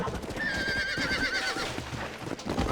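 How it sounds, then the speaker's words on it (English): Horses neigh and whinny in Red Dead Redemption 2, one long high whinny rising over a busy background of hoof clops and game ambience, fairly close and loud. "Them's our horses"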